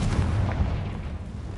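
A Confringo blasting spell explodes in the Hogwarts Legacy video game, a short, dense boom with a heavy low rumble that fades over a second or so.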